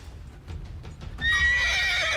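A horse whinnies loudly in Mount & Blade II Bannerlord, a long, bright, shaky neigh that follows a few soft hoof thuds and rings out clearly.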